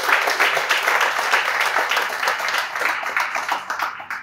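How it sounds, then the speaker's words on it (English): A crowd applauds steadily, dense clapping holding at an even, fairly loud level throughout. "A round of applause for him and the rest."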